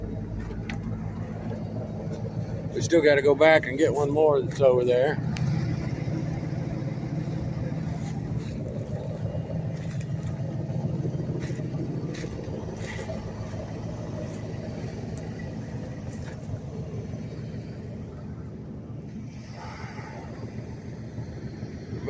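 A car engine runs steadily at an auto salvage yard, a low continuous rumble that persists throughout, with someone speaking briefly early on.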